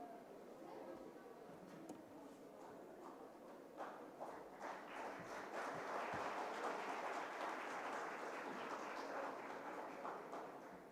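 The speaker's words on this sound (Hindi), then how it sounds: "तालियां बजती रहनी चाहिए।" An audience claps at a school award ceremony honouring toppers in the presence of an education minister. Scattered claps build into sustained, fairly close applause that continues to the end.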